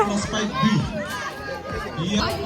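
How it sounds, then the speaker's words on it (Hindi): Busy crowd at a school food festival in Kokrajhar, Assam, a dense babble of chatter and children's shouts close around, steady and loud throughout with no single voice standing out. "ओ माँ, इतना ज़्यादा भीड़।"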